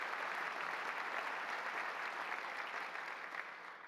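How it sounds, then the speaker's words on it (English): Audience applause at a regional development coalition's annual meeting: a steady, dense wash of clapping from many hands in a hall, holding throughout and tapering slightly at the end. "You can applaud."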